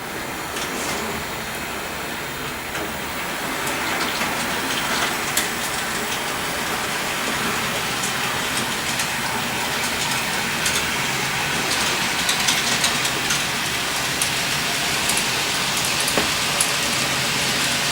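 A Kato SD40 model locomotive with a Digitrax decoder runs at scale speed on a layout, giving a steady, close, rushing rattle of wheels on track with light clicks, continuous and unbroken, with no voices.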